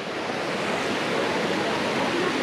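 Thermal spring water at the hot springs of Saturnia in Tuscany rushes and splashes in a steady, loud, broadband roar like a small waterfall, continuous and close with no talk over it.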